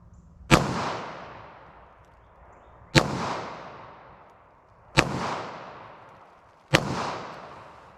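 Taurus revolver fired at a shooting range: four loud, sharp single gunshots spaced about two seconds apart, each with a short decaying echo, and no talking.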